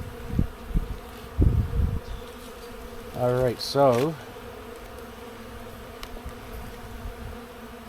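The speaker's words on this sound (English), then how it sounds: "there's a good amount of bees in here" Honey bees hum in an opened hive during an inspection, a low steady buzz beneath a few short spoken words and brief handling knocks, with one louder buzzing pass partway through.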